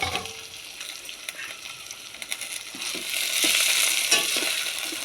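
Vegetables crackle and sizzle in hot oil in a pan, a steady close frying hiss with occasional scraping stir sounds that grows louder toward the end.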